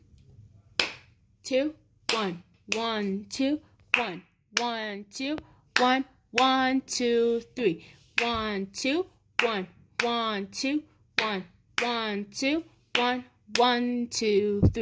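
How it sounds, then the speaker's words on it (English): Hands clap the rhythm of a simple beginner piano song in three-four time: crisp, close claps in an uneven long-short pattern, each paired with a voice counting the beats aloud. "Okay, so I'm going to clap the song."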